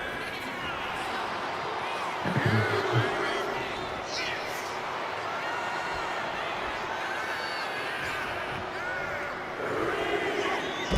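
Arena crowd in the WWE 2K26 wrestling video game booing Drew McIntyre, a dense sustained roar of many voices with commentary talk over it.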